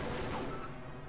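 Gunfire aimed at the player in Half-Life crackles as a faint, dense burst of shots over a low, noisy game background.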